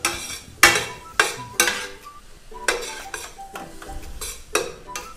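A utensil clanks repeatedly against a pot as dry spices fry for curry, sharp metallic strikes at roughly half-second intervals with a faint sizzle beneath.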